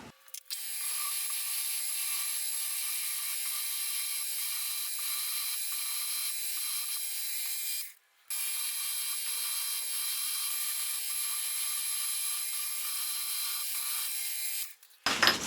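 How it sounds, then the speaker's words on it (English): Guides for a homemade metal shaper machine are drilled in two long, steady runs of high whirring, broken by a brief pause midway, loud and close with no talk. "So we've now got the guides drilled"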